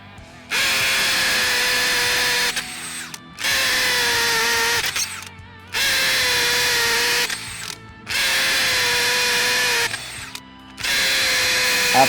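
A RIDGID Octane 18V half-inch hammer drill driver drives in five loud bursts of about two seconds each, separated by short pauses, each run holding a steady high whine without bogging down, close up and with no voices.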